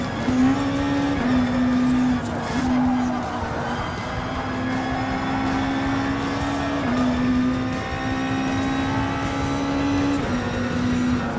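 Racing cars in Gran Turismo Sport's All Japan GT Championships give a loud, steady engine drone that rises in pitch and drops with each gear shift, along with tire noise and overlapping engine sounds from other cars.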